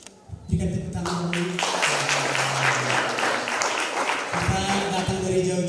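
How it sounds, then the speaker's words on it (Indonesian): Applause from a congregation at a church wedding celebration, a sustained wash of clapping that starts after a brief quiet moment and carries on with some voices and background sound mixed in. "Berikan tepuk tangan."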